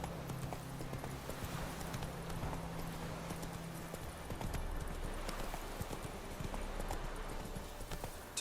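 Roach the horse trotting in The Witcher 3, faint steady hoof clops over a low background hum and game ambience, distant-sounding and continuous with no voices.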